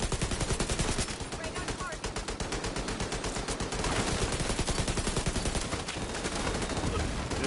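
Sustained bursts of rapid light machine gun fire fill a firefight in The Division 2, a dense, loud, continuous chatter of shots with other gunfire layered in and only brief dips.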